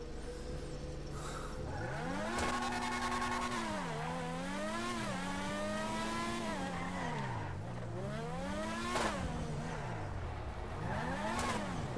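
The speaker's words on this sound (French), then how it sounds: "Alors forcément elle a une très très forte accélération, hein, cette prochaine PR4" A Progen PR4 race car in GTA Online accelerates hard, its engine note sweeping up and down through repeated gear changes, loud and close with a brief tire squeal.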